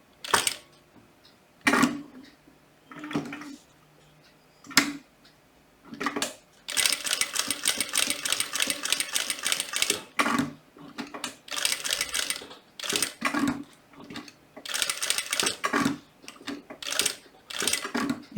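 A sewing machine stitches fabric for a butterfly zip pouch, running in short whirring bursts at first, then longer rapid chattering runs separated by brief pauses, close and clear.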